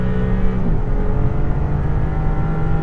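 Maserati MC20 sports car engine droning loud and close as it accelerates on a race track on Bridgestone Potenza Race tyres, with a steady low rumble, a brief pitch dip early, then a continuous strong pull.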